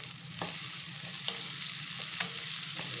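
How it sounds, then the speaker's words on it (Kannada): Onions, tomato and chilli fry in a pan for onion rice, giving a continuous sizzle with a few light stirring scrapes at regular intervals, close and steady. "ಚೆನ್ನಾಗಿ ಫ್ರೈ ಮಾಡ್ಕೋಬೇಕು"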